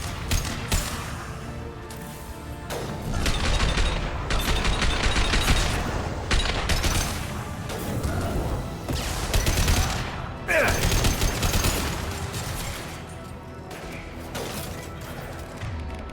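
Gunfire from a weapon in Mass Effect 2 on Insanity difficulty, heard as repeated bursts of sharp shots separated by brief pauses, loud and close, with mechanical clacks and impact crashes mixed in.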